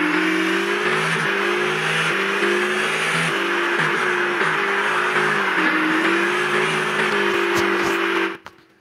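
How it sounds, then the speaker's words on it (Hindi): Old car engine in a mobile driving game, running with steady revving and shifting pitch for about eight seconds, loud and close, then cutting off abruptly at the end. "इसका गाड़ी का साउंड थोड़ा सुन"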